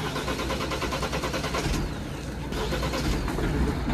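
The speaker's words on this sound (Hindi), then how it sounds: "दूसरी सेल्फ में ही है गाड़ी बिल्कुल आसानी स्टार्ट हो गई" A Mahindra Scorpio N's engine turning over and running in -18 degree icy cold at Sissu near Manali, a loud, steady mechanical drone with a slight rise near the end.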